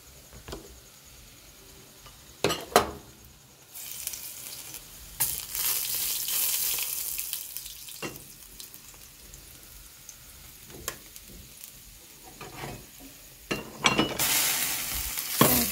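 Spice tempering (baghar) hisses and sizzles in hot oil in a kitchen pan while being stirred, with loud bursts of frying crackle and clattering scrapes of the spoon against the pan.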